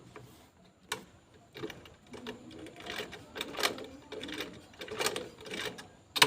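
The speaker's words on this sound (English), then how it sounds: "I'm going to take this to the sewing machine and top stitch on this part to hold the ring holder" A sewing machine top stitches a fabric bag to hold its ring holder, giving a quiet run of irregular mechanical ticking and clattering bursts that come and go, close up, with no talk.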